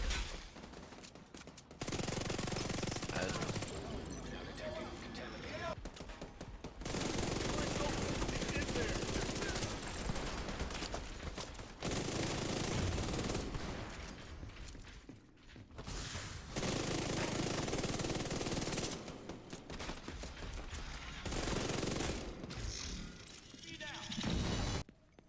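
Rapid bursts of automatic gunfire in The Division 2 come in several long sustained volleys separated by short pauses, loud and dense throughout, with a voice speaking over parts of it.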